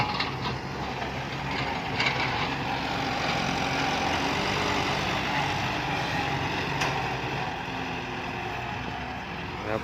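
A heavy tractor engine rumbles steadily at a constant drone, loud and close, with a faint rattling over it throughout.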